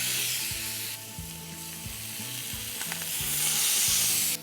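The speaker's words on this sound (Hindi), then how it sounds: "चिकन को ग्रिल मार्क्स देने से पहले मेक श्योर जो पैन है वो बेहद हॉट हो। It has to make that loud sizzling noise." Chicken searing on a very hot grill pan, a loud continuous sizzle with faint scraping and clicking of utensils, no talking.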